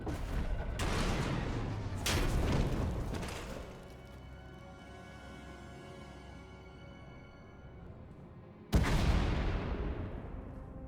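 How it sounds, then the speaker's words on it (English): Heavy explosions and a rumbling tunnel collapse in a Star Wars video game: loud broadband blasts in the first few seconds, a long fading roar of falling debris, then another sudden loud crash near the end. "We heard explosions. The tunnel collapsed."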